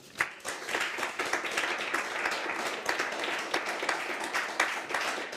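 A city council meeting audience in Kent breaks into sustained applause, many hands clapping in a busy, even wash that continues for several seconds.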